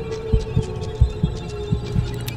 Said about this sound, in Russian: Еще сердцебиение у главного героя просто.